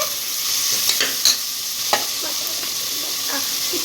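Mint and vegetables sautéing in a pan for mutton biryani give a continuous close hiss of frying, broken by a few soft stirring scrapes and clinks, with no talking.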